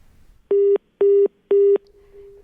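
Telephone line tone after a caller disconnects during a broadcast phone-in, three loud, evenly spaced beeps of equal length followed by a faint lingering tone.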